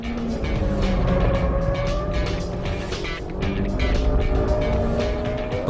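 Honda Civic EK9 Type R with a B16B engine running hard near 6,000 rpm on a racetrack, a loud continuous engine drone with tire and road noise.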